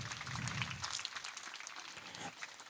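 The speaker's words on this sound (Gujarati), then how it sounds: "આપણે તાળીઓથી વધાવીએ" An audience at an annual girls' hostel celebration in Junagadh applauds guests being welcomed, scattered clapping from a crowd that thins out toward the end and carries no talk.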